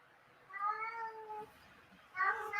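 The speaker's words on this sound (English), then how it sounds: "I can hear your cat." A house cat meows twice over a call line, a drawn-out tonal cry followed by a shorter one, moderately close above a faint background hiss.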